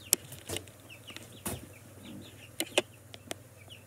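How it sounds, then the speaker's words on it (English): Small farm chicks giving soft, scattered clucks and peeps, with a few sharper calls and light rustling close by over a quiet, low hum. "Me show you my chicks."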